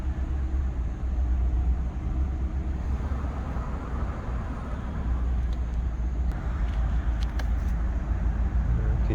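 Steady roar of traffic on the I-95 interstate near an RV park in Jacksonville, Florida, a continuous distant rumble of passing cars with no one speaking.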